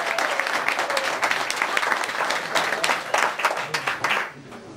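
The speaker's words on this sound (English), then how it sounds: "give the first speaker a round of applause" Wedding guests applaud the father of the bride, a dense, steady burst of clapping from a full room that holds for several seconds before tapering off at the end.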